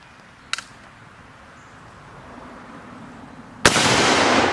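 A muzzle-loading 1861 Parker Hale Enfield musketoon, .58 caliber firing a 460-grain ball, fires at a propane tank: a small pop early, then a sudden loud blast followed by a sustained roaring rush of escaping gas.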